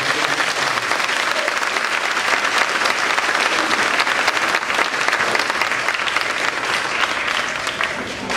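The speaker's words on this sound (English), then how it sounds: "Please give a round of applause" Sustained, dense applause from an audience at an elementary school D.A.R.E. graduation ceremony, steady and loud throughout, fading slightly at the end.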